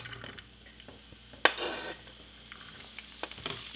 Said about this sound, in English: Next, we're going to add our shallots and garlic.